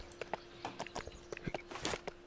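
Horse hooves clip-clop in the video game Lego Worlds, a quick irregular run of faint, light taps over a steady low hum.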